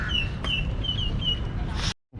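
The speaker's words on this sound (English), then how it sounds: "Some ducks and swans." Park waterfowl, ducks and swans, give a short run of four or five quick, nasal calls at moderate distance over steady low outdoor rumble, then a brief silence.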